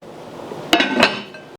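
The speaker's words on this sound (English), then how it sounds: "I might put the lid on to get things going a little bit faster." A lid lands on a cooking pot of pasta water, giving two sharp metallic clinks a fraction of a second apart, loud and close, then a short ringing fade with no talk.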